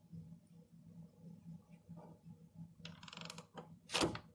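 A free-spinning crank pulley on a damaged engine turns with faint mechanical creaks and clicks in a quiet space, then a louder scrape near the end.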